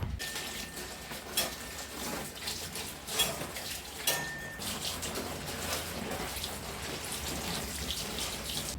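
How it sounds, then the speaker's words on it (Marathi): Colocasia (taro) leaves being rinsed in water at a sink in a village-style home kitchen, with a steady wash of running, splashing water and occasional louder sloshes and clinks of a vessel, close and continuous throughout. "आता पानंसुद्धा छान स्वच्छ धुवून घ्यायचे"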